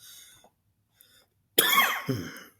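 A single harsh cough bursts out close by, followed by a smaller second cough, after a stretch of near silence.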